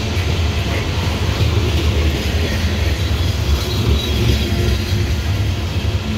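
A loaded CSX coal train rolls along the B&O Old Mainline, a steady close rumble of heavy cars and clattering wheels on rail that holds constant throughout with no voices.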